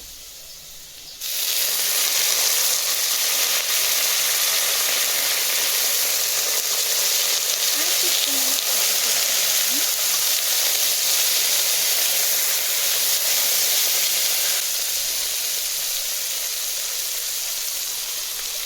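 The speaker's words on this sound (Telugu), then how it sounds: "ఆనియన్స్ బాగా ఫ్రై అయింది." Onions frying in a pan for chicken biryani give a steady, broad sizzling hiss that sets in after a second and holds evenly, close and fairly loud, with no talking over it.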